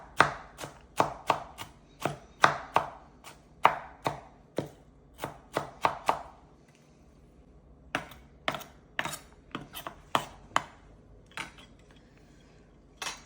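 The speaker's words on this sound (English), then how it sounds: "So I finished cutting all the mushrooms" A knife chopping thinly sliced mushrooms on a board, rapid crisp strikes in quick bursts, a short pause near the middle, then more chopping, close and clear with no talk.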